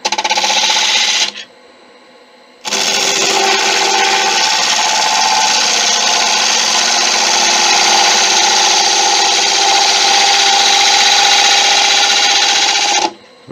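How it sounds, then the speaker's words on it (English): Wood lathe turning a monkey puzzle wood bowl with a small ball gouge: a loud, steady scraping and whirring cut that runs almost continuously, with a brief pause near the start. "Try a smaller ball gouge."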